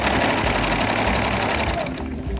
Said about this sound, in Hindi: अंदाजे से सिलाई लगाते जाएं।